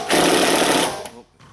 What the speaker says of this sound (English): sometimes the screws are so rusted that you need to use an impact to get them out